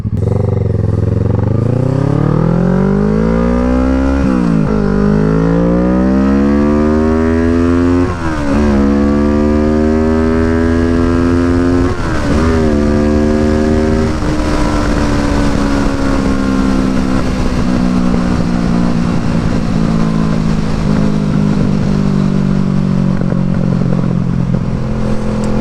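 A motorcycle engine burbles loudly through its exhaust while riding on a cold day. The steady throbbing drone climbs in pitch through several gear pulls and then settles into a constant cruise, with no voices over it.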